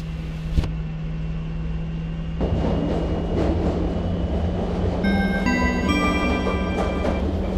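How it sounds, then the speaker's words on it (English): A simulated train in the Euro Train Simulator game rumbles steadily into Camp de Tarragona station on the Barcelona Sants to Madrid Atocha route, with a sharp click early on and a rising run of electronic chime tones near the end. "We are now arriving Camp de Tarragona station."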